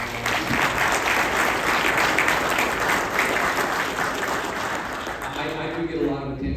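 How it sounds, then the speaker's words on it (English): Audience applause after a county judge's speech, a full room clapping steadily and loudly, then easing slightly toward the end. "could you please give them a big round of applause?"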